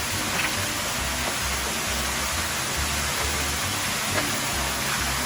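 A waterfall at a Thai stream with a bamboo-lined entrance pours in a steady, broadband rush that fills the whole stretch, continuous and fairly close, with no voices over it.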